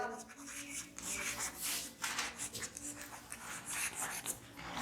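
Marker or chalk strokes scratch and rub across a board while a passive-voice grammar formula is written out, a series of close, raspy strokes of uneven length.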